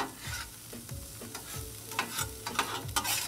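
Two spatulas scraping and mixing chicken taco filling across a Blackstone 22-inch griddle, rhythmic metal strokes about every half second over a steady sizzle, close up.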